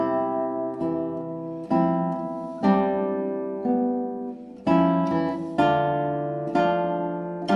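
Classical guitar plays Sor's Etude 1 (Op. 6, no. 8) in 3/4 meter with every beat accented equally, clear close plucked chords and melody notes ringing in an even pulse, with no talk.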